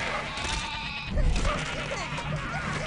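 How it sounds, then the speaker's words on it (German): Sheep bleat in the video game Overlord, a few wavering calls layered over busy game ambience and background music, fairly close and moderately loud. "Endlich wieder das Geblöke, schon lange nicht mehr gehört."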